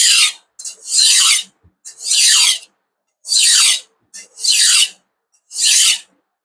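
A kitchen knife is drawn over a sharpener in six separate, evenly spaced passes. Each pass is a loud, close, bright rasping scrape with short silences between them.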